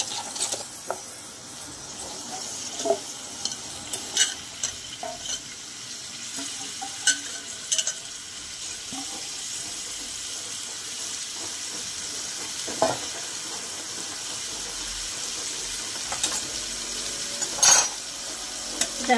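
Cauliflower florets and potatoes frying in a little oil in a pan, a steady hiss and sizzle throughout, with occasional scraping stirs and clinks standing out, close by with no talking.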